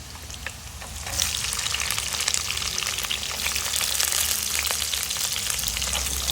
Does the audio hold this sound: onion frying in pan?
yes